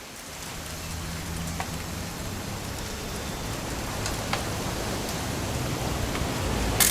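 Steady rain pours down throughout in What Remains of Edith Finch on PlayStation 5, a dense continuous hiss with faint occasional drops, no talk over it.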